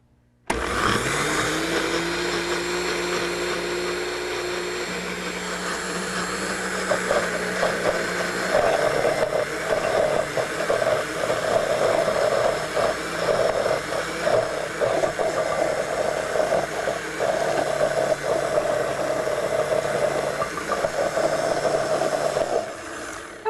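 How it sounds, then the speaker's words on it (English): A kitchen blender runs continuously, whirring as it purees a carrot patty mixture, its motor pitch shifting slightly after a few seconds and holding steady and loud until it stops at the end. "Blend this one more time, and then we'll mix in our carrots"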